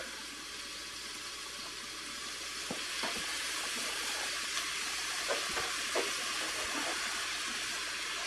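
Creamed sofrito sauce with milk simmers and reduces in a pan for chicken sofrito, giving a steady soft sizzle and hiss with occasional faint bubbling pops and no talking.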